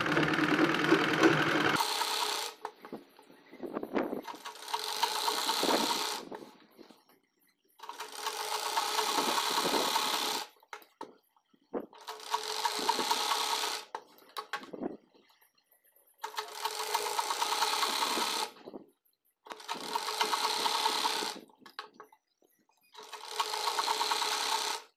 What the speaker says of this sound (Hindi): एकदम सीधी सिलाई ले लेंगे।